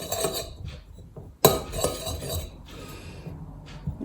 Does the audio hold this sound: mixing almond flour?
yes